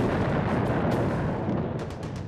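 Continuous World War I British artillery bombardment, a dense, loud rumble of distant guns merging into one heavy roar with occasional sharper bursts and no speech.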